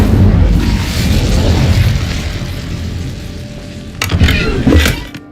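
A fire spell cast in the video game Hogwarts Legacy, a loud rumbling whoosh of flame that swells and fades, followed by sharper crackling bursts near the end.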